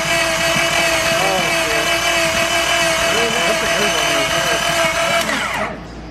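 A turbo diesel D-series engine with a failed head gasket runs hard on a dyno, a loud, steady, rough drone with strained tones that holds for several seconds before easing off at the end.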